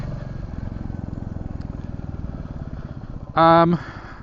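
A motorcycle engine idles with a steady rumbling putter, and a brief, louder tonal burst cuts in near the end.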